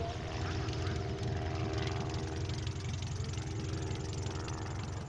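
A Taylorcraft light airplane flies by at a chapter fly-in, its propeller engine a steady, fairly loud drone that holds constant throughout.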